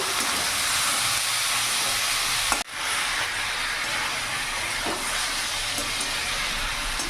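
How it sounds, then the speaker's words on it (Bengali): Chicken pieces fry in a pan, giving a steady, loud sizzling hiss that runs throughout, broken by a single brief knock partway through. "চিকেনটা একটু ভেজে ভেজে নেবো আমি"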